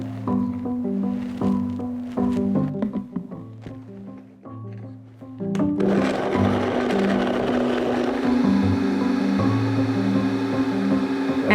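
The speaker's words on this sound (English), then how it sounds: "And then blend until it's smooth and creamy, just like this." A blender purees pumpkin pie filling with pumpkin pie spice, vanilla and salt into a smooth, creamy mix, its steady whirring roar kicking in midway and running loud and continuous over light background music.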